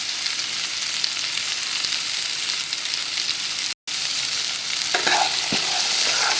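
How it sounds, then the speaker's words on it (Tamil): Black chickpea sundal stirred in a pan with salt and coconut, a steady scraping stir over a soft sizzle, close and continuous with a brief dropout midway and a few clinks near the end. "சும்மா ஒரு 2 நிமிஷம் ஒரு கிண்டிட்டு இறக்கி வச்சு"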